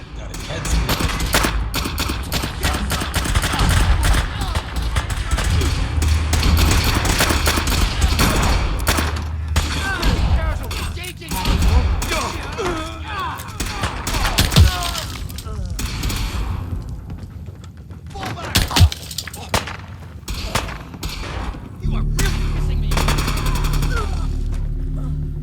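Rifle gunfire in a Fallout 4 battle, with dense rapid bursts and single loud shots that keep going through the whole scene alongside thuds and booms, and talk under the shooting.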